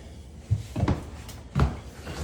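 A house's back door is worked open and shut, giving two dull wooden knocks and thuds about a second apart in a quiet room.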